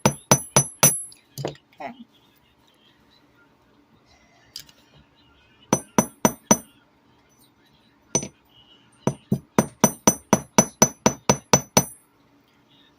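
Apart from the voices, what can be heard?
hammering wire for wire-wrapped necklace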